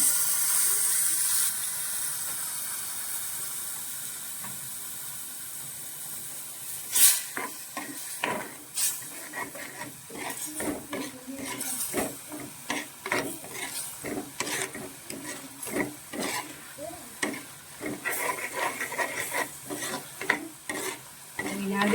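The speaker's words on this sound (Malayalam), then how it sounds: "അതിലേക്ക് വിനാഗിരിയും കൂടി ഒഴിച്ച് തിളപ്പിക്കുവാണ്" Vinegar mixture for anchovy fish pickle bubbles and sizzles in a pan while a spoon scrapes and stirs in irregular bursts, close and moderately loud.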